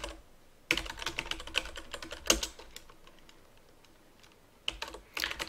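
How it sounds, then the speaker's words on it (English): Someone types on a computer keyboard at a desk, with quick clusters of crisp keystrokes separated by short quiet pauses. "I'm going to come to my Windows box and do a release, if I can type it correctly."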